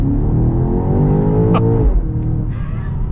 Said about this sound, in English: I love the acceleration you get with M cars.